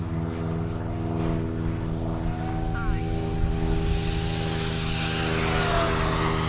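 A Yak 130 radio-controlled model jet makes a downwind pass, its steady whining engine tone sustained and swelling slightly as it nears, with a voice speaking over it.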